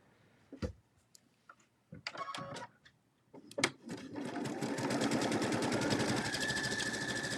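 Sewing machine with twin needles stitching a scallop pattern, starting after a few clicks and handling noises and then running steadily and fast, close up, with no voices.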